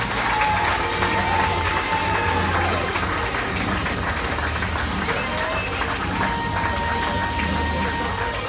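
Audience applause and cheering for the winner of the Miss Ogre 2015 beauty pageant, a dense, loud, sustained clapping from a crowd that continues throughout, with faint music underneath.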